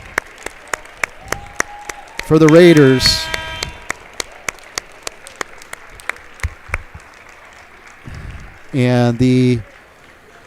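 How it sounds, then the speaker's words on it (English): Crowd applause at a varsity high school basketball game between the Rapid City Stevens Raiders and Sioux Falls Jefferson Cavaliers as seniors leave the floor, steady clapping under a commentator's voice with sneaker squeaks and two loud buzzer blasts. "the seniors will get a round of applause for their efforts"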